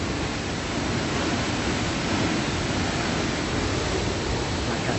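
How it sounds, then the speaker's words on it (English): The Salto de San Anton waterfall in Cuernavaca roars as a steady, dense broadband rush of falling water, loud and unbroken throughout with no voices over it. "There's the waterfall."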